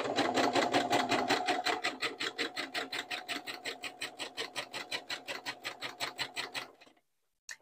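A sewing machine stitching stretch knit fabric runs in a fast, even mechanical chatter, close and steady for nearly seven seconds before stopping abruptly, leaving a brief silence.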